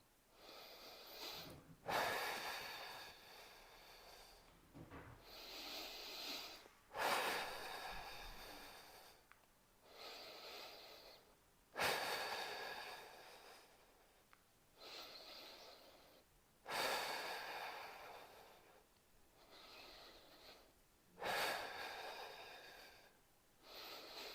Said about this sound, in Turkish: Derin nefes alıp vermeye devam.